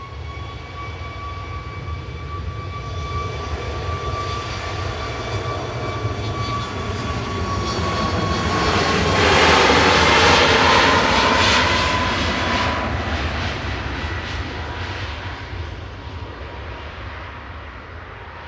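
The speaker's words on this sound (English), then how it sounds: "Ryanair departing in front of us, going to Barcelona with flight" A Ryanair airliner departs for Barcelona at Manchester Airport, its engines a loud sustained roar that swells to a peak midway and then eases, with a steady whine over it and no voices.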